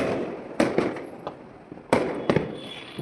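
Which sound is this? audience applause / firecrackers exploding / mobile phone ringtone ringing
firecrackers exploding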